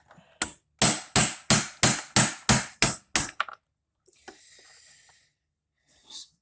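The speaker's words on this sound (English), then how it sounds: "I'm just gonna set my screwdriver on top. I'm gonna drive the pin out." A screwdriver is used as a punch and struck with a hammer to drive a pin out of a gear drive transfer case during a teardown: eight sharp metallic blows in an even rhythm, loud and close, then a faint clink and near silence.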